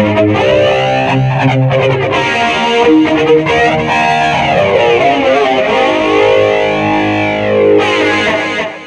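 Heavily distorted electric guitar in a 1977 Starwood delay tone on a BOSS eBand JS-10, notes smeared by swirling chorus-like echoes, loud and continuous throughout with no talking.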